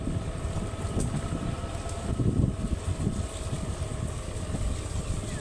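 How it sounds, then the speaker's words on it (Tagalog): Strong wind rushing through trees shedding their leaves beside a road near a river, a continuous roaring gust with buffeting low rumble on the microphone, swelling briefly midway, no talking. "Ito parang lakas ng hangin, no?"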